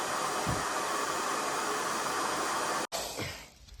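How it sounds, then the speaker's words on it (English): A hair dryer used as a heater blows with a steady, loud whooshing roar, cuts out abruptly for a moment, then restarts and begins to fade. "So I'm using a hairdryer as a heater."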